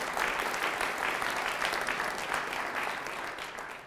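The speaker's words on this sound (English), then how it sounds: "a lukewarm round of applause will be absolutely fine" A lukewarm round of applause from a business conference audience at an opening ceremony in Oxford, steady dense clapping that holds evenly for a few seconds before thinning slightly at the end.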